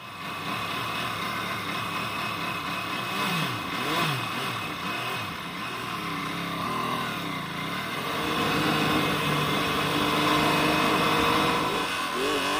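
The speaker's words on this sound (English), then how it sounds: "the sound I hear is kind of like an angry troll trying to hammer his way out of my engine block" An MV Agusta F3 800 motorcycle engine running rough and knocking before it fails, close and loud, with revs rising and falling in uneven surges and a harsh, clattering mechanical drone.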